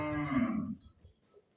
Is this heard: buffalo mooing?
yes